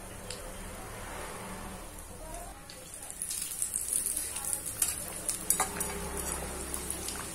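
Sambar wadi frying in hot oil, a steady crackling sizzle that grows busier and more bubbly midway, heard close and at low volume with no talk over it.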